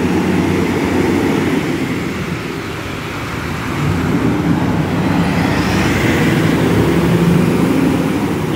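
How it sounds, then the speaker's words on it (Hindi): An American Kenworth truck imported from Oklahoma, running in rainy conditions in India, with a steady loud low engine rumble and broadband road noise throughout. "और भाई ट्रक को देखो भाई, कितनी ज़्यादा साउंड कर रहा है।"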